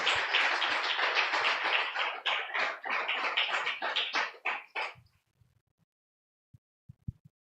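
A church congregation claps together in a dense burst of applause that carries for about five seconds, then cuts off abruptly, leaving only a few faint scattered taps.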